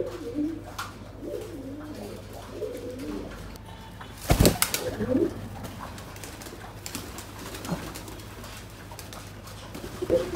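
A pigeon coos in soft low repeated phrases close by, with a sharp knock or thump partway through and a faint steady hum underneath.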